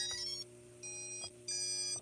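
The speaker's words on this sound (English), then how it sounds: "You hear that? Yeah, it beeped." A quadcopter drone, just plugged into a small tester battery, sounds three short bright electronic beep tones in sequence, each separated by a brief pause, close and clear over a steady low hum.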